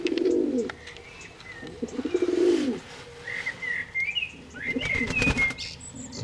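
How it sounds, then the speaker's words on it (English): A white dove, half racing pigeon, coos in repeated low throaty phrases close by, with rustling wing flaps and faint bird chirps and whistles in the background. "Its father is the racing pigeon, so it must have took after its mother, being a white dove."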